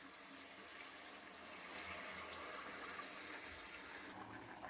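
Water poured into a cooking pot for chicken biryani, about one and a half glasses for a glass of rice, makes a steady, fairly soft gushing splash that runs unbroken for several seconds.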